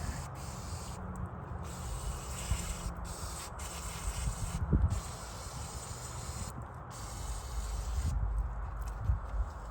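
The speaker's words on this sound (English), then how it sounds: "What we are going to do is spray out the needles through here" Carburetor cleaner sprays in close, loud hissing bursts through the jets of a carburetor, with several sustained blasts broken by short pauses.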